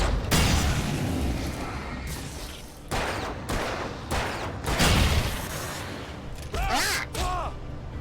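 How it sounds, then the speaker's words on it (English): In the video game Alan Wake, a red barrel is shot and explodes, giving several loud gunshots and a booming blast with rumbling debris, followed by a brief shout. "Shoot the red barrel."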